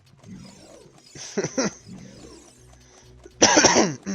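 Coughing from a person with a cold during a Legend of Zelda: Ocarina of Time play session, two short bursts near 1.4 s and a louder, harsher cough at 3.5 s, over quiet game sounds.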